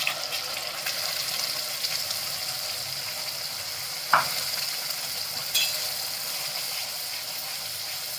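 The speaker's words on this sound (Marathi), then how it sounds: "वाटलेले वाटण टाकून घेते." Ground masala paste frying in hot oil with bay leaf and asafoetida for dum aloo, a steady broadband sizzle with a couple of sharp stirring knocks, close and continuous.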